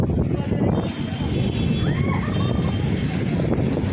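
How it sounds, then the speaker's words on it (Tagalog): Strong wind buffets the microphone in a continuous low rumble at an outdoor bazaar, with a faint tonal whine partway through. "Ayan, ang lakas ng hangin."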